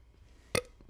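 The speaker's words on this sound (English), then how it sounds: "That was crazy that you just threw the mic into your mouth to burp." A single short burp close into a microphone, a quick loud burst over a quiet background.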